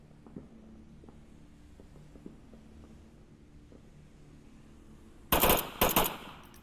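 Two short bursts of gunfire in the VR shooter Onward, loud and sharp against a quiet background with faint footsteps, in a competitive match on an objective.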